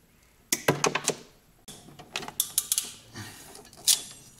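Battery busbar strip being cut at a marked point, a run of sharp metallic clicks and crunching snips in two bursts close by, fairly quiet, with no talk.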